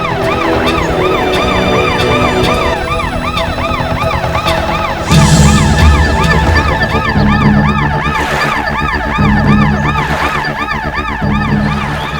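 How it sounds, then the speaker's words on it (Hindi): Ambulance siren at a crime scene, wailing continuously and loud in a steady rising-and-falling cycle, with a low rumble of vehicle or crowd noise joining partway through. "फ्रेडरिक्स, एम्बुलेंस वालों को बोलो कि लाशें ले जाए"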